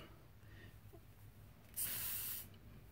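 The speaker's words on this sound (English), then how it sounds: "And then take your hairspray. This one is Ion Color from Sally's Beauty Supply." Ion Color hairspray mists onto hair in one steady burst of about two-thirds of a second, a bright close hiss rising abruptly out of quiet room tone and cutting off cleanly.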